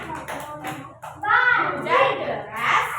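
A class of children performs the 'tepuk banjir' clapping chant in an Indonesian classroom. Several quick claps sound close by, mixed with the children's chanting voices.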